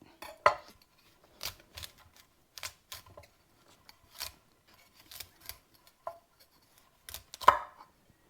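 A knife chops cabbage on a board, stem pieces included, into small bits for stir-fry: sparse, separate crisp cuts and taps at irregular intervals, close and fairly quiet, with no talking.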